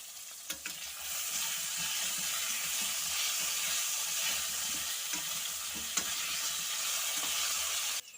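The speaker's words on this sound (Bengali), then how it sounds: "ঢাকনাটা সরিয়ে আবারও একবার নাড়াচাড়া করে নেব" Potatoes fry in a pan for a rohu fish curry and are stirred, a steady close sizzle with a few scattered scrapes and clinks of the spatula before it cuts off at the end.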